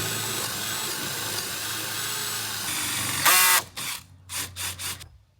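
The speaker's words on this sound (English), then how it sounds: "So honestly, I'm just going to drill it right here." A power drill runs steadily as it bores through wood into greenhouse metal framing, a close, buzzing whine that ends in a loud burst and several short stop-start pulses, with no voices.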